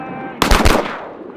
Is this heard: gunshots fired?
yes